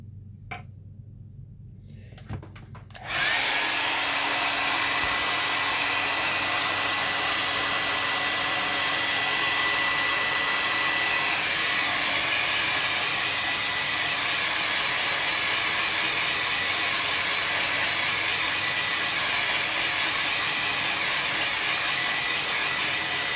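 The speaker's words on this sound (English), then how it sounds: "And we'll dry it off and we'll take a look." A hair dryer blows over a freshly painted watercolor barn vignette, switching on after a few quiet seconds with soft handling noises, then running as a loud, steady whoosh.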